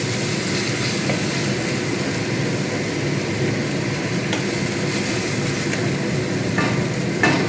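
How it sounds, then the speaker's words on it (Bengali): Onion paste sizzling steadily in hot oil as it fries toward a light brown, a dense continuous crackle with a few faint scrapes of stirring, close and alone with no talk. "পেঁয়াজটা একটু হালকা লাল করে ভেজে নিতে হবে।"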